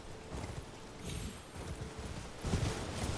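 A horse gallops in Elden Ring, a rapid, continuous drumming of hooves at moderate volume with a swell near the end.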